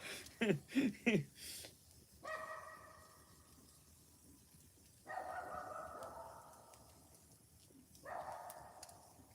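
Dogs bark out in the Mississippi countryside, a quick burst of three sharp barks up front and then longer drawn-out baying howls coming in waves from some distance.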